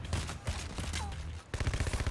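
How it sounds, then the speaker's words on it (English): Gunfire rings out during the Heat Street heist in the video game Payday 2, with rapid overlapping bursts of shots in a dense, fast rhythm, a short pause, then another volley. "So many guns going off."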